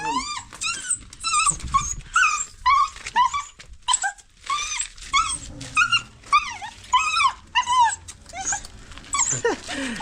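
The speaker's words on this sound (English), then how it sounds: "fighting with my dog" A dog play-fighting at close range gives a continuous run of high yips, whimpers and low growls in quick irregular bursts over ten seconds, with no talk.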